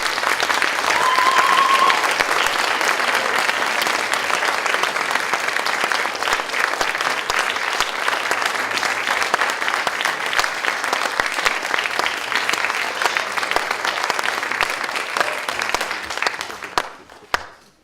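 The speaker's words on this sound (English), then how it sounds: "let's give them a big round of applause, but you guys already did that" An audience at a 2018 showcase performance gives long, steady applause as contestants are brought onstage, a thick roar of many hands clapping for nearly eighteen seconds before tapering off abruptly.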